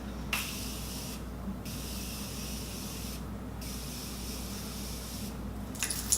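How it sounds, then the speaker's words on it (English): Setting spray mists in long continuous hissing bursts, three sustained sprays separated by brief pauses, close and steady. "So I'm gonna go ahead and spray my face."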